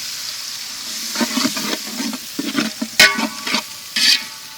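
Onions and green chillies sautéing in a large pot for mutton soup, a soft sizzle under a run of rhythmic, close stirring scrapes and ladle knocks.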